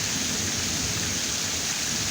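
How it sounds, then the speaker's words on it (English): Heavy winter rain in Arkansas pours down steadily during a thunderstorm, a dense, even hiss of falling water with a low rumble underneath and no voices. "I can't remember a storm being this bad during the winter in quite some time."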